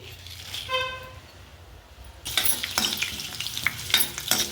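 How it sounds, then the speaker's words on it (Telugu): Cumin seeds and dried red chilies crackle and sizzle in hot oil, starting quieter and turning into a louder, steady frying hiss about halfway through, with scattered pops and a brief high tone early on. "జీలకర్ర ఎండుమిర్చి వేసుకుని బాగా వేయించుకుని"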